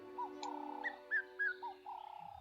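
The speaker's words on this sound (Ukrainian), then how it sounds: "Я соловей, невеликий птах коричневого кольору, відомий своїми милозвучними піснями." A nightingale, a small brown songbird, sings a faint series of clear whistled notes and short trills, separate phrases rising and falling over a quiet background.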